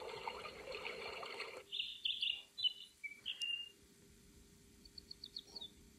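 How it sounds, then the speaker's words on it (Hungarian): Small birds chirp in several quick bursts of high tweets, following a short rush of running-water-like noise; more faint, scattered chirps come near the end, with no one talking. "Csiripelnek a madarak,"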